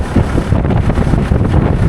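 Wind buffets the microphone in a steady, rumbling roar with gusty low thumps throughout, loud and continuous with no voices.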